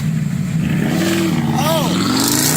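An engine revs hard during a rev-off contest, a loud sustained drone with a rising pitch that stays continuous under nearby voices.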